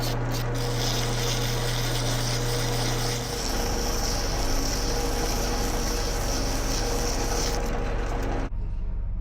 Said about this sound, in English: Go ahead and clean up with a piece of emery